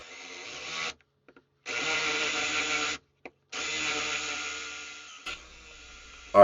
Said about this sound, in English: Still struggling with the drill. Again, maple is very hard